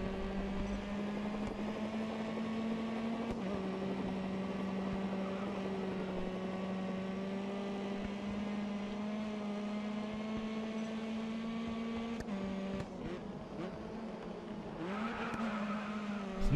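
A car engine in the racing video game Grid Autosport holds a steady high buzzing drone through a race, with pitch dips at gear changes and a brief drop near the end, loud and continuous without speech.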